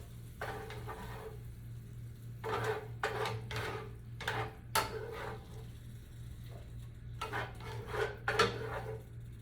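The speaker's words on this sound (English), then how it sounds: "I'm gonna go ahead and put this over in a pan" Philly cheese steak meat is put into a pan, giving a string of soft clinks and scraping knocks of utensils against cookware over a steady low hum, fairly quiet.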